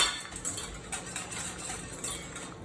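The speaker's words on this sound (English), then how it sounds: "I'm going to add the measured grits here, and then we're going to whisk this in" Grits whisked into a pot of liquid in a home kitchen, giving a steady, busy scraping and light metallic clinking of a whisk against the pot, fairly quiet and continuous with no talk.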